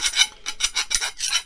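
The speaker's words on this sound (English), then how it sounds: "I take a round file, go inside and" A round file rasps inside the freshly cut end of a metal wind chime tube, clearing burrs in five quick back-and-forth strokes, close and fairly loud with no talking.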